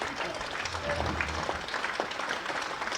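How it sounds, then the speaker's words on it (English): The Essex crowd at a county cricket match against Hampshire gives a steady ripple of applause from the stands, moderate and somewhat distant, with light crowd murmur underneath. "A round of applause from the Essex crowd."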